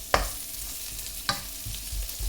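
Guanciale frying and rendering its fat in a pan, a soft continuous sizzle broken by two sharp utensil clicks, with no voices.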